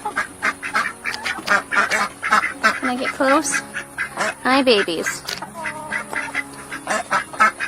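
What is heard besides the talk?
Cayuga ducks quacking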